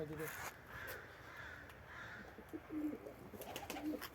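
Soft pigeon coos sound a few times in the background amid quiet room noise and faint voices.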